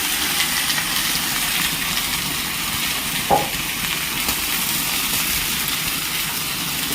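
Vegetables fry in hot oil with onion in a kadai, a steady close sizzling hiss throughout with one faint clink partway.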